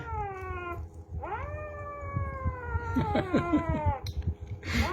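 A cat just recovered from brain fever yowls in several long, drawn-out caterwauls, with pitch bending up and down, close and loud, followed by a quicker cluster of wavering meows.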